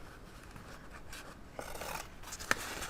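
Scissors cutting a vinyl sheet into sections for decorating charger plates, soft scraping snips close by and quiet, ending in one sharper click of the blades.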